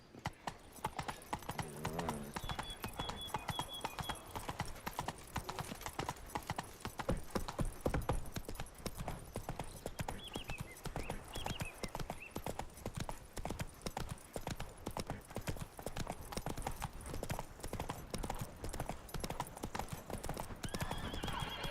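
A galloping horse in The Witcher 3 pounds out fast, continuous hoofbeats across the whole stretch, with a neigh near the start and faint game ambience beneath.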